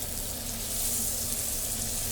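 Turnips or other food sizzling and frying in a pan while being stirred in a student kitchen, a continuous bright hiss with soft scraping from the stirring, steady and fairly close.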